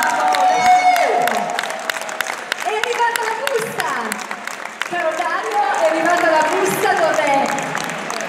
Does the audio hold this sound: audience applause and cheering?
yes